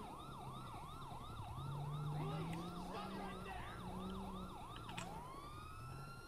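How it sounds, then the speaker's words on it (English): Fire truck siren in the game GTA V (LSPDFR police mod) wails in fast repeating up-down sweeps over a low vehicle engine rumble, loud and continuous, with a brief horn-like blast near the end. "Yeah, there's the fire truck."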